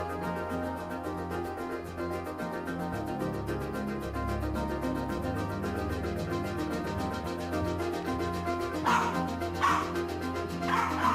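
A dog barks and yips in short sharp bursts near the end, over a steady bed of background music that runs throughout.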